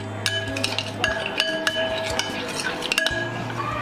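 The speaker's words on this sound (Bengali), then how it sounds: "দইয়ের সঙ্গে খুব ভালোভাবে মিশিয়ে নেব মশলাগুলো।" Spices and chopped green chillies being mixed into yogurt in a bowl, a close series of light clinks and scrapes of a spoon against the dish with soft stirring between, no talk.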